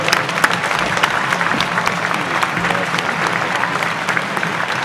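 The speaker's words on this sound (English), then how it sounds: "Everybody give King a big round of applause for putting this together." An audience at an evening gathering gives a round of applause, dense and continuous clapping from many hands at close range, steady in level throughout with a faint voice beneath.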